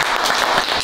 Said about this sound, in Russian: Великолепно. Аплодисменты.